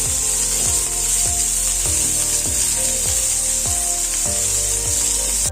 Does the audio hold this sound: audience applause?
no